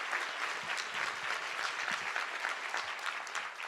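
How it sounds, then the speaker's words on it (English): An audience at the Spokane mayor's State of the City Address gives a sustained round of applause for the Salish School students, a full, even wash of clapping with no break. "about one more round of applause for Dominique and the Salish School students?"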